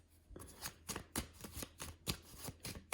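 Playing cards are shuffled and cut, a run of crisp riffling bursts and snaps in an irregular rhythm, close and fairly quiet with no talking.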